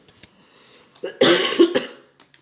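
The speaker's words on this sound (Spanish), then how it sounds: "Perdón por la tos." A man coughs up close, with a short throat catch leading into one loud, rough cough that breaks into a couple of harsh jolts before fading to quiet breathing.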